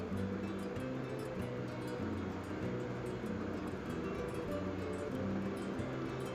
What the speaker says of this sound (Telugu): ఉల్లిపాయలు ఇవన్నీ బాగా వేగాలి ఆయిల్లో.